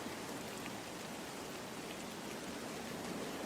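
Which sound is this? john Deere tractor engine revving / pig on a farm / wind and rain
wind and rain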